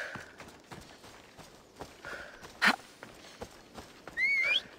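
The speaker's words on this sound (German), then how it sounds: "Ah, unser Pferd ist wieder geheilt." A horse in the video game Assassin's Creed Odyssey gives a short, bright whinny near the end, after scattered hoof clops and game noises, with no talking.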